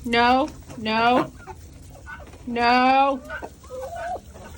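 Chickens cluck and squawk nearby on a homestead in loud bursts: two calls, a pause, then another squawk followed by softer clucking.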